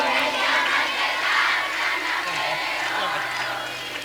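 A large crowd of women at a devotional gathering shouts loudly together, a dense continuous roar of voices with a low hum underneath, sustained and close.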